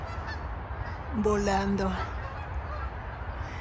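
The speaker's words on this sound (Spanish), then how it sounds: "Ah, miren los gansos, qué cosa más linda." Geese honking in a backyard in winter, a short series of nasal calls rising over steady outdoor background noise, with a person speaking over them.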